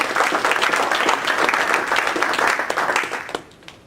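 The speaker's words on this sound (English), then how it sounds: "So a quick round of applause for our sponsors," Audience applause at an evening tech meetup, a dense crowd of many hands clapping steadily and loudly for about three seconds before tapering off quickly at the end.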